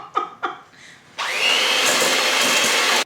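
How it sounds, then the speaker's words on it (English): An electric mixer beating cookie dough: a couple of short knocks and handling noises, then a steady, loud whirring drone that runs for about two seconds and cuts off abruptly. "A little bit more mixer time."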